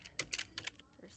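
Computer keyboard keys being typed in short irregular bursts, a handful of close, light clicks over about a second with quiet background.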